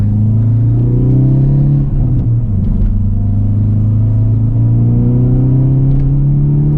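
A Hyundai Veloster N engine revs hard at full throttle at night, a loud, steady, close rising drone with a brief dip in pitch mid-pull before it climbs again, no talking.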